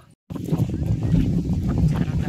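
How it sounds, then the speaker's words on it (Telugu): Strong cold wind buffets the microphone on a hilltop near a Shiva temple festival site, a steady loud roaring rush that begins abruptly after a brief silence and continues without letup. "ఇక్కడ చాలా పైకి ఎక్కాం కొండ మీదకి. ఎక్కాక ఇక్కడ చాలా చల్లగాలి వస్తుంది."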